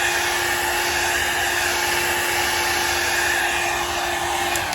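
A heat tool blows a steady, loud rush of hot air onto an acrylic paint background coated with liquid crystal color dust, a continuous close whoosh with a faint whine and no speech.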